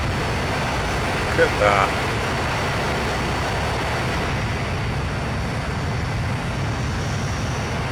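An airplane with its flaps moving gives a constant loud broadband roar of engine and wind, steady and close, while a voice speaks briefly over it.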